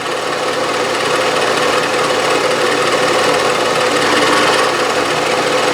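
A Bridgeport milling machine feeding along the y-axis while cutting metal for a crank adapter, giving a steady, loud, unbroken grinding whir throughout.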